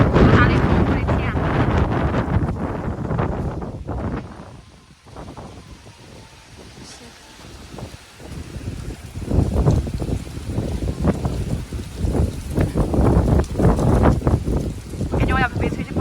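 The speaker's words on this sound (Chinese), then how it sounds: "大的风，我的天！" Loud gusts of strong wind batter the microphone outdoors, easing briefly in the middle before surging back hard, with talking partly buried under the rumble.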